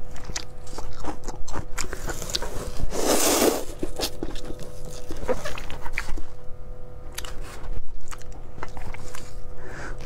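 Someone bites and chews spicy instant noodles close to the mic, giving steady moist chewing with a louder crunchy bite near the start.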